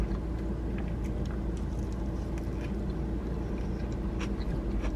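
A parked car's engine idles with a continuous low, even rumble, steady for the whole stretch, with a few faint nearby clicks and mouth sounds on top.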